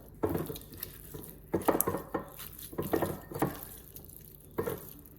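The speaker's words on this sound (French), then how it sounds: "je vais mélanger tout ça" Marinade for a roast leg of lamb is stirred together in a bowl, giving irregular close clinks and wet slaps as the utensil strikes and scrapes, in scattered bursts with quiet gaps between.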